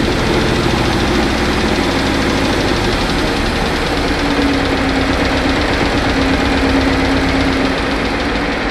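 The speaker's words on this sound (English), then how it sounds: "Start the engine and hear the Tappet sound." A Yuvraj 215 tractor diesel engine runs steadily at idle with a rapid metallic tappet ticking and knock layered over its loud, continuous drone, close up with no voices.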